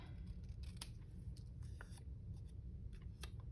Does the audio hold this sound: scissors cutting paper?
yes